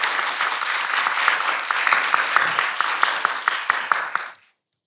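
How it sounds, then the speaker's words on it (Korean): Audience applause at the closing ceremony of a youth climate action conference, a dense, steady crowd clapping that carries for about four seconds with a few sharper individual claps standing out before it stops abruptly. "큰 박수 부탁드립니다."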